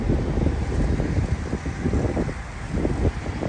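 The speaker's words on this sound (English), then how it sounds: "Of course, it gotta be windy too right now" Steady wind buffets the microphone outdoors at a camp, a continuous low rumble with gusty swells throughout and no clear talk.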